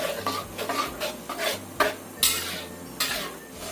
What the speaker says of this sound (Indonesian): Ini kita aduk terus ya, supaya nggak ada yang hangus di bawahnya.